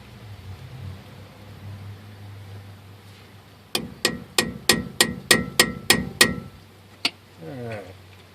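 A hammer smacking a socket to press a rear brake part into a 1996 Ford F250 XL, nine sharp metallic strikes in quick, even rhythm, then one more, close and loud in a quiet garage.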